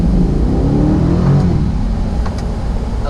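A Corvette C8 pulls hard in first gear in manual mode, its engine roaring loud and steady throughout, with the note rising slowly under a heavy continuous rumble.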